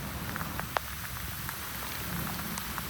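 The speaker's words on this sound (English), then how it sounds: "it is coming down really hard right now. This weather, this water, this rain." Heavy rain falls in a park as a dense, even hiss with scattered closer drips and patters. It is moderately quiet and continuous, with no voices.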